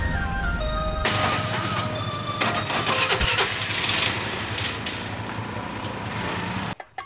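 A vehicle engine cranks and starts, then runs loud and steady for several seconds before cutting off abruptly near the end.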